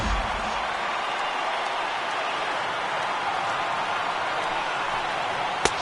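Crowd noise from a baseball stadium in MLB The Show 18, Dodgers at Rockies, a steady roaring wash of a large standing crowd that holds level throughout, ending with a sharp knock.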